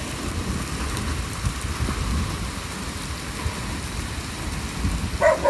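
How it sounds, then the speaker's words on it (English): Continuous rain from an Alberta thunderstorm hisses in a dense, even roar, with a faint low rumble beneath and a brief brighter patter near the end. "a little bit of hail, an awful lot of thunder and lightning"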